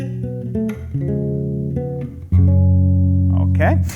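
A bass guitar plays a short melodic phrase from a Christmas bass solo, with sustained low notes ringing close, ending in a louder held note and a slide, while a voice speaks briefly over it.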